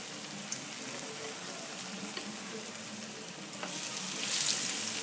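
Hot water bread fries in a skillet with a steady crackling sizzle and a few soft clicks, growing louder and more intense near the end as more batter goes in.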